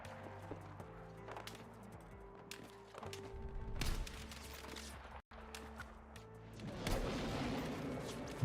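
Gunfire and explosions from the video game Battlefield 6, with tanks around, thump and crack in irregular bursts at moderate level, building into heavier rumbling blasts toward the end.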